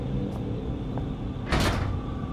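Door handle rattled against a lock in the horror game Penumbra 2: Black Plague, one short burst of metallic clatter over a steady low ambient hum, with a couple of faint knocks before it.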